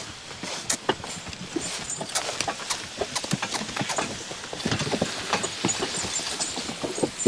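Young draft horses in training clip-clop steadily across a hard surface, the hoofbeats close and distinct in an uneven rhythm as they work through turns, with a faint mechanical hum in the background.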